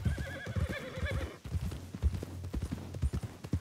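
A horse whinnies loudly in the RedM video game, a drawn-out neigh that gives way to a run of clip-clopping hooves, close and rhythmic.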